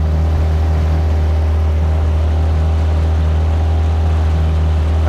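Storm 13.5 two-stroke outboard motor running steadily on a boat, a loud continuous droning hum close by with no talk over it.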